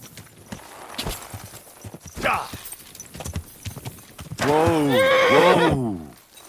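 A horse in the medieval game Kingdom Come: Deliverance 2 clops its hooves in scattered steps, then lets out a loud, close, drawn-out whinny near the end.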